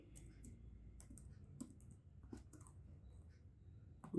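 Fast, light tapping on a computer keyboard, irregular clusters of crisp key clicks over about four seconds, fairly close and quiet, with no one talking.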